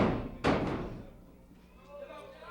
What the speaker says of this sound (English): Mr. Lewis greeted with a couple of slams right into the turnbuckle padding